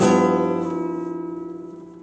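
A sustained guitar note bends upward in pitch and holds, with a slight pulsing waver as it gradually decays.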